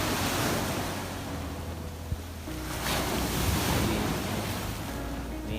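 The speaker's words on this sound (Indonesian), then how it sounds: "Inilah pemandangan pantai Inung Bali." Waves washing onto the beach at Inong Balee, a continuous roar of surf with gusty wind buffeting the microphone, steady and fairly loud, with no one talking.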